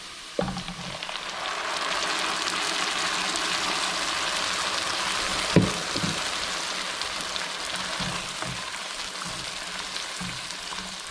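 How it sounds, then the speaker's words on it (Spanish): Red chilaquiles salsa hits hot oil with onion in a pan and sets off a loud, steady sizzle and crackle. The frying runs unbroken, with a few soft knocks and stirring clatters, and no voices. "Y voy a echar la salsa para que se guise junto con la cebolla."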